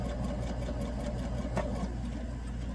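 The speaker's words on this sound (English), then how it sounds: "I'm going to sew all the way down both sides." A sewing machine runs steadily while stitching down both sides of a homemade ironing mat, giving a continuous mid-pitched motor hum with a faint rapid needle patter throughout.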